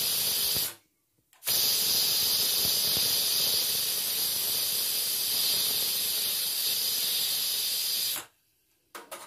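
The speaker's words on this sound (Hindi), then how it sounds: "एक प्रेशर आने के बाद इसका आधा प्रेशर जो है हम निकाल देंगे" A kitchen pressure cooker venting steam while cooking mixed vegetable tahari, a loud steady hiss that cuts in abruptly, runs for several seconds, then stops with short gaps and a brief resumption.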